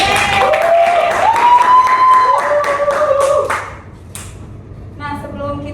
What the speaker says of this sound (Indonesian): Jadi ayo tepuk tangan sekali lagi.